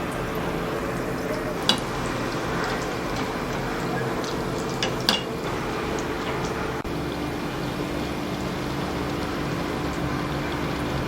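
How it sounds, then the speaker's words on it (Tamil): Potato cheese balls fry in oil with a steady, even hiss and crackle, holding a constant level, with a few faint sharp pops along the way. "இப்போ இதை எண்ணெயில் போட்டு பொரித்து எடுத்துடலாம்."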